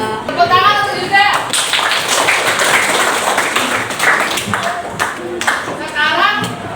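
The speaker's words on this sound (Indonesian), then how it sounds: "Tepuk tangan untuk Yuda." A classroom of students claps for a classmate in a burst of quick, close hand claps that run through the middle stretch, with a teacher and children talking at the start and end.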